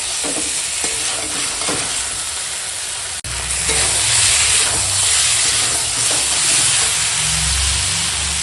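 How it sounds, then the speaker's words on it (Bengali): Mutton is sautéed in a pan for kosha, a dense, close sizzle and hiss with stirring scrapes; after a brief dip the frying swells louder and steamier. "চলো মাংসটা একদম সুন্দর করে কষাবো"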